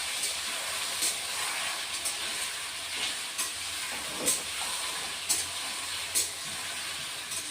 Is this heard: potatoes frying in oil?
yes